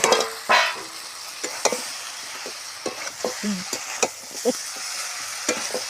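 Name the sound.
stir-frying soaked rice, fried potato and fish head in spices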